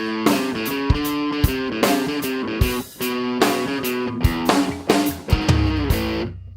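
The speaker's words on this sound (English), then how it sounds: "I really liked that guitar part." An electric guitar riff plays alone with distortion, its chords strummed in a punchy, rhythmic pattern with sharp stabs and brief pauses, loud and close.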